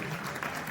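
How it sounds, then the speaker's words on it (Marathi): Applause at a Kunbi cultural community event in Maharashtra, honoring a girl named Vidhi; a brief, steady burst of crowd clapping, moderately distant and continuous throughout. "एकदा जोरदार टाळ्या होते आमच्या विधीसाठी."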